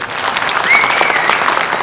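An audience claps together inside a hall at a speech event at Kannada Bhavan. The applause is loud, dense and continuous throughout.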